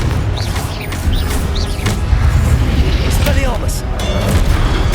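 Booming Confringo spell blasts in Hogwarts Legacy, several heavy explosions with crackling debris in quick succession amid combat noise, with a voice calling out spell names over them.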